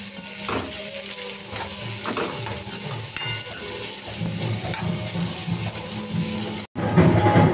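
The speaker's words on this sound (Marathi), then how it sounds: "तेलात कांदा सोडलेला आहे, त्याला सोनेरी रंगावर फ्राय करायचा, कांदा करपवायचा नाही" Chopped onion sizzles and fries steadily in hot oil while a spoon stirs it in the pan, a continuous close crackle with scraping strokes throughout and a brief break near the end.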